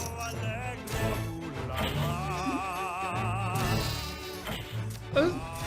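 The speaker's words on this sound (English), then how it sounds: "I have no idea why the music blocks make sheep noises when they're destroyed" Sheep-like bleats sound as music blocks are destroyed in the video game Henry Hatsworth, scattered among game music and effects, with a voice talking over them.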